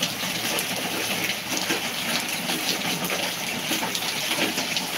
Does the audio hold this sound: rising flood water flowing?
yes